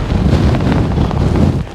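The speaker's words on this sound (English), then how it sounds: "Now it is windy and it is cold and my hands are getting cold" Strong wind blows across a misty, cold Lake District fell, buffeting the microphone with loud, rough, continuous low rumbling gusts, with no voices.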